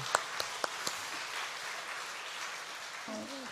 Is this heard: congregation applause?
yes